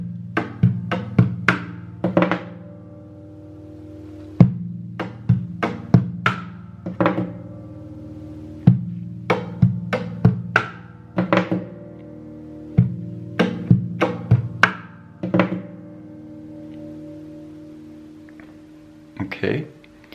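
Acoustic guitar played percussively, with body thumps, slaps and ringing harmonic notes in a steady looping groove with a quick finger roll, close and alone.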